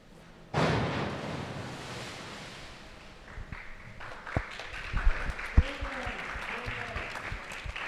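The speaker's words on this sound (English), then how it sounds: "He deserves every bit of that round of applause" Crowd applause erupts in an indoor pool arena at a varsity boys' high school swimming and diving meet after a backward somersault dive with two and a half twists, then thins out as an announcer talks over it.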